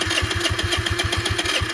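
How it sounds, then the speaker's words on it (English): A car engine running at idle, a close, loud, steady rhythmic chug with regular low pulses throughout and no talk. "Idling. Idling."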